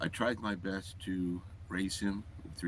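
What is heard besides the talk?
None of the usual background noises is heard.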